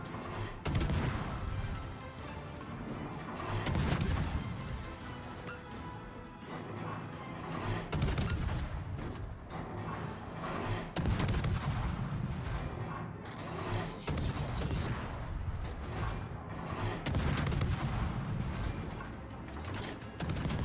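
Heavy naval cannon fire from an enemy warship in World of Warships, deep booming salvos rolling in waves with rumbling continuous battle noise throughout.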